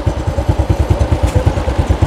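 Motorbike engine idling by the sea at Hai Dong beach in Hai Hau, a steady close, loud rhythmic putter of regular thumps with no talk.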